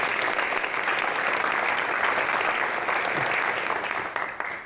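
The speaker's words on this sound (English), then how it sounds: "Give them all a round of applause." A crowd at a State of the City address breaks into sustained applause, loud and even, tapering off slightly at the very end.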